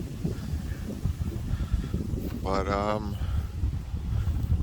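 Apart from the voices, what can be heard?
wind after Tropical Storm Elsa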